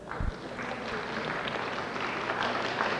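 Audience applause at a community banquet fills the room, a steady wash of many hands clapping that continues without letup, with a soft thump near the start.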